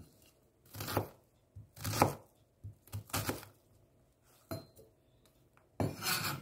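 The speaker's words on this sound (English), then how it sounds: "need 1 piece of medium size of red onion and slice" A medium red onion sliced with a knife on a board: several distinct cutting strokes in irregular bursts, close and fairly quiet, with gaps between them.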